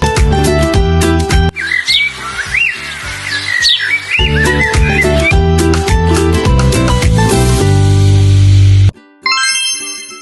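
Bright bird chirps and squawks ring out amid cheerful children's music, repeating in short bursts over a steady musical bed before a brief drop near the end.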